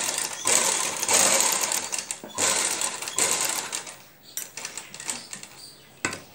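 A sewing machine stitches along the buckram of a designer neckline with potli buttons, running in short close bursts of rapid needle chatter separated by brief stops, louder early and tapering to sparse stitches.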